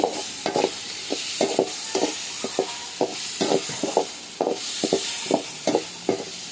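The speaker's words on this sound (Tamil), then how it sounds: "நல்லா தக்காளி போட்டு நான் கிண்டிட்டுருக்கேன்" Onions and tomato stirred and fried in a pan while cooking prawns, a steady sizzle broken by regular scraping strokes of a spoon against the pan, close and fairly quiet, with no talk.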